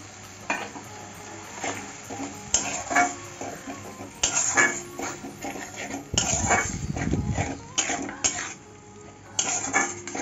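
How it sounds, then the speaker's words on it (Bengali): Poppy seed and nut paste being stirred in a pan for Rui Posto, a Bengali fish curry, with a soft sizzle and repeated spoon scrapes and knocks against the metal, close and uneven, no talking. "এখন পোস্ত আর বাদাম বাটাটা দিয়ে দিচ্ছি। ভালো করে নাড়িয়ে নিচ্ছি।"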